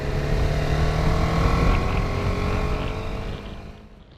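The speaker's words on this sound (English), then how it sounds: "when you rev it at first or second gear, you can hear it pretty obviously, but then when you turn the throttle, it gives you quite a nice sound" A BMW G310R single-cylinder motorcycle engine revs with a steady, loud droning tone that holds and then fades out near the end, heard alone without voices.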